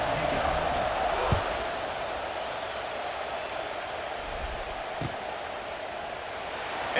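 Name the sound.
stadium crowd in video game EA Sports College Football 26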